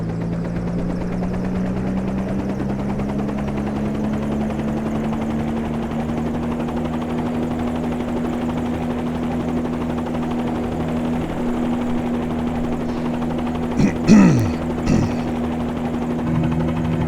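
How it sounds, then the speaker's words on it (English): Helicopter flying at dawn over the Seychelles islands in Microsoft Flight Simulator 2020, a steady droning rotor and engine hum that rises slightly in pitch, loud and continuous, with a few brief sharp bursts near the end. "So here we are on the helicopter."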